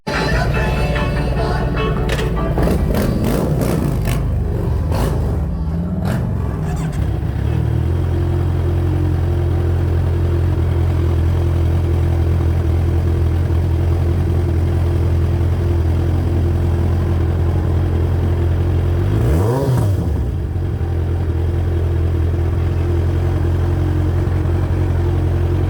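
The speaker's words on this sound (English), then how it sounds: "So I just started my bike at the gas station." A motorcycle engine cranks and fires up at a gas station, then settles into a loud, steady low idle, with a brief rev near the end.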